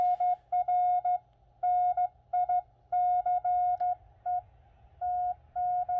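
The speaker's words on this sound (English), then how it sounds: "So I've got the CW decoder running and I have it set for 10 words a minute. And I have the side tone set at 600." Morse code sidetone at 600 keyed at about ten words per minute, a clear, close pure beep pulsing in dots and dashes with short gaps, heard alone over faint hum.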